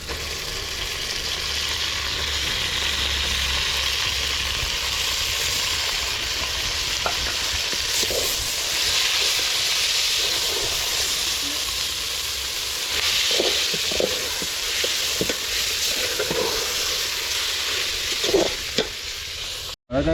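Chicken sizzles steadily in a hot pan for semiya biryani, a loud continuous frying hiss with occasional stirring scrapes and clinks, no voices.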